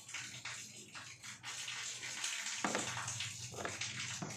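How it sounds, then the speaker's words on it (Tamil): Water pours down from a borewell pipe, a splashing, gushing flow that rises and falls unevenly with occasional sharper splashes, fairly close and with no voices. "தண்ணி கொஞ்சம் இது போர்ல இருந்து கீழே ஊற்றுது"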